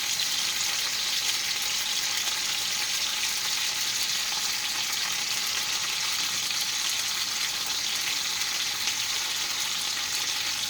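Pork chops frying over medium heat in bacon grease in a pan, a steady close hiss and sizzle with no break for the whole stretch and no voices.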